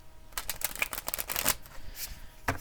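Tarot cards are shuffled by hand in a quick run of crisp, papery riffles and flicks, close and fairly loud, with a final snap at the end and no talking.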